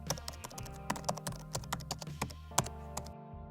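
Quick, uneven keystrokes clatter on a computer keyboard as a name is typed into an indicator search, a burst of clicks running steadily for several seconds with no talking.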